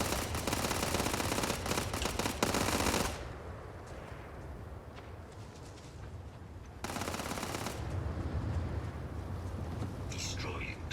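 Gunfire in the Starfield video game rattles out in dense automatic bursts, loud and close, with a pause between two long volleys and faint voices in the background.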